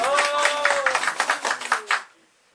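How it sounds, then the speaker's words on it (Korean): An audience at a feng shui interior lecture gives a short burst of clapping, several sharp irregular claps over about two seconds under a sustained voice, then stopping abruptly into near silence. "이 정도 박수가 나와야 됩니다"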